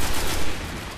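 Dense, rapid gunfire from Destiny multiplayer on Xbox 360 fills a short burst, loud and continuous with overlapping shots and no talk.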